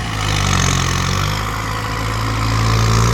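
A steady engine drone runs throughout, low and rumbling like a heavy farm tractor working nearby, with no talking.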